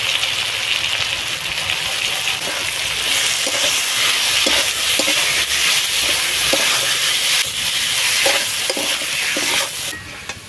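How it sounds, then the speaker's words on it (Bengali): Spice paste of turmeric, chilli, ginger, cumin and coriander sautéed with small mola fish in a pan, a loud continuous sizzle with steady stirring and scraping throughout, tapering off at the end. "সবকিছু খুব ভালোভাবে কষানো হয়ে গেছে।"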